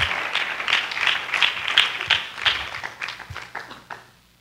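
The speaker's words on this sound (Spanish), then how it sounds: "Démosle un aplauso al Señor." Church congregation applauding during a sermon, a lively patter of individual claps close by that thins out and stops near the end.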